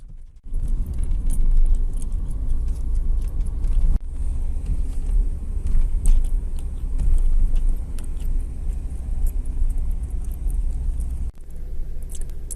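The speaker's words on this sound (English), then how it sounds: "You see that car coming?" A car rolls past on a wet street, a steady low rumble of engine and tire noise holding throughout, with small clinks and rustles nearby.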